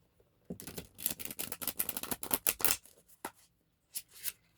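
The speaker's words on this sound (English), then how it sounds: "Come on, give me a good shuffle." Tarot cards being shuffled by hand, a quick burst of crisp riffling flutters lasting about two seconds, then a few separate taps as the deck is squared, close and quiet.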